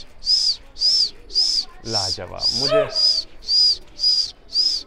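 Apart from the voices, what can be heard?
pigeons cooing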